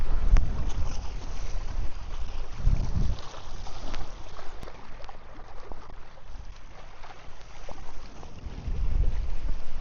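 Strong wind buffets the microphone out on open water while fishing for catfish from a boat, a loud gusty roar in uneven bursts with faint water sounds underneath and no talk.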